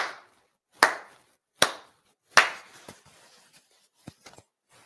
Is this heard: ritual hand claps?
yes